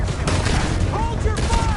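Video game gunfire rattles out in rapid, overlapping bursts of shots, loud and close, with voices under the volleys.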